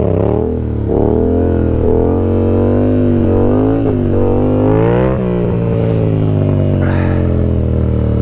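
A Yamaha MT-07 motorcycle fitted with a stunt sprocket lifts into a wheelie during stunt practice. The engine note is loud and close, with a steady harmonic drone that rises and falls as the throttle is worked.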